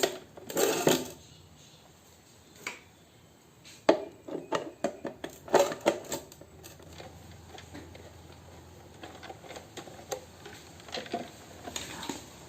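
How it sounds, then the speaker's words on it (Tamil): Small screws being undone and removed from the back casing of a mixer grinder during a repair, heard as a close, irregular series of sharp clicks and metallic taps with quiet pauses between them. "அதுக்கு நம்ம மிக்சி பேக் சைடில் ஸ்க்ரூ கழட்டி ரிமூவ் பண்ணணும்"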